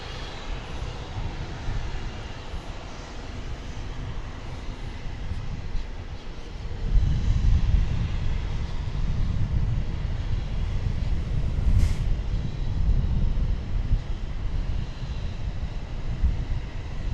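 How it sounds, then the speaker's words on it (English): A Martinaire aircraft's engine starts up at DFW Airport, a distant steady rumble with a deep low-end drone that swells partway through and holds, heard from afar under open-air background noise. "I think we've got another one of those Martinaires firing up."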